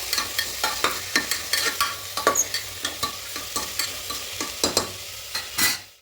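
A spoon stirs potato curry ingredients with chana dal and bori in a hot pan, making a quick, regular series of scraping strokes over a low sizzle, close and clear with no talking.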